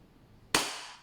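A WE Glock 17 Force T5 airsoft gas blowback pistol fires one sharp, loud crack indoors, followed by a brief hissing tail of gas.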